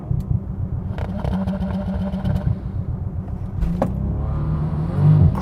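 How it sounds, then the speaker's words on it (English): Bentley Continental GT car launching hard from a standstill, a loud, steady engine roar with low rumbling harmonics that holds throughout and swells near the end, with no talking. "I'm going to launch this Bentley."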